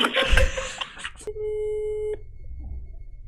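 After dialing 666 on a phone in Albania, a single steady busy-signal tone sounds for under a second, clean and close, following a burst of muffled noise.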